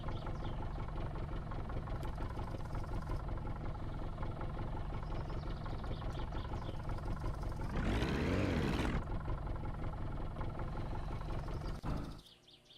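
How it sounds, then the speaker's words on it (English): A boat engine idling steadily in the My Summer Car video game, a continuous low rumble that swells briefly near the middle and then cuts off abruptly at the end. "Engine shut off, and we are stepping out of the boat."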